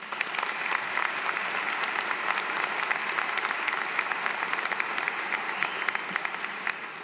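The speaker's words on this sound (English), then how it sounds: "everyone here deserves a round of applause for their contribution in our success today." Graduation ceremony audience applauding steadily for the full stretch, a dense, continuous wash of many hands clapping in a large hall with no voices on top.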